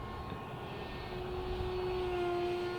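A Rebel 70 RC model airplane flies overhead with a continuous engine drone and a steady high whine that slowly shifts in pitch, moderately distant over broad background noise.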